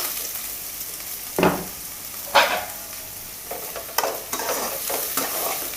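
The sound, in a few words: onion and green chilli pieces frying in hot oil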